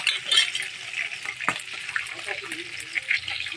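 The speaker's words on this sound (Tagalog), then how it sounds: "ito nag-prito muna tayo ng tambakol" Tambakol tuna frying in a pan with oil, crackling and sizzling at close range, with a few utensil scrapes and a sharp clink partway through, and faint background noise.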